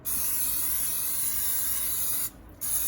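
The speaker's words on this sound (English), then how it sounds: "Spray them on that side. Liberally" Cooking oil spray hisses onto pickle-brined chicken pieces for an air fryer in one long, close, continuous spray, with a brief pause before it starts again.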